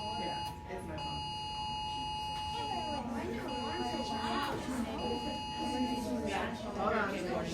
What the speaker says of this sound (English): yeah, it's my phone.